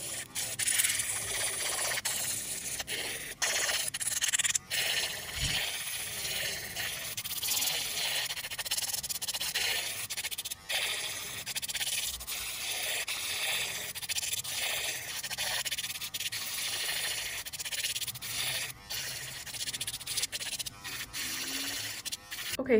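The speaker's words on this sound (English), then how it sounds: "Now I'm going to take my fine grit sanding band and I'm going to remove the shine from all the tips." Fine grit sanding band buffing the shine off acrylic nail tips, a continuous close scratchy rubbing with brief pauses, steady and moderately loud throughout.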